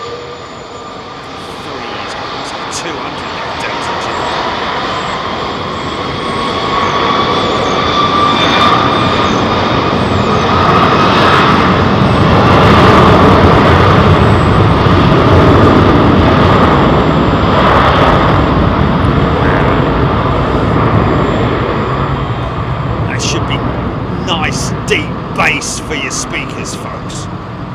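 Airliner engines spool up and roar through a takeoff roll at London Heathrow, loud and close, the rumble swelling to a peak midway and then easing, with a voice talking over it.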